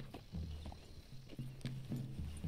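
Horse hooves clip-clopping at a walk in Red Dead Redemption 2, a soft, steady run of low knocks with no talking.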